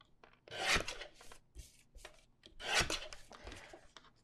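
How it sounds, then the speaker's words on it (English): Scrapbook paper being trimmed up close, rasping strokes in several uneven bursts with short pauses between passes, fairly quiet with no talking. "I am gonna trim this one a little bit."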